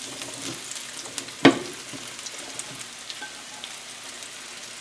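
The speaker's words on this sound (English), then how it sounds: "I also have a bunch of mushrooms that I've sliced up. And we're just going to throw that in." Sliced mushrooms dropped into a hot pan while cooking creamy chicken with garlic, a sharp burst as they land, then a continuous close hiss and crackle of frying with occasional stirring taps.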